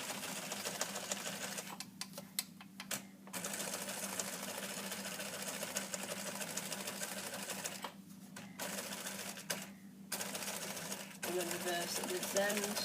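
A sewing machine stitches over a seam on a neckline facing, a steady fast mechanical whir that runs almost continuously with a few brief pauses, close and fairly quiet.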